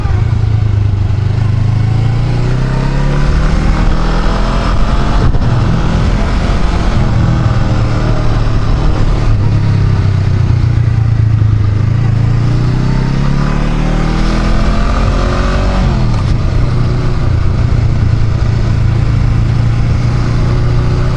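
A Honda Rebel 500 motorcycle on its first ride from the dealership runs loud and steady, its engine note rising and falling through repeated gear changes, close and continuous throughout.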